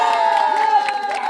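A crowd at an under-12 football final claps and cheers in a brief, dense burst of noise at close range, with shouting voices mixed in.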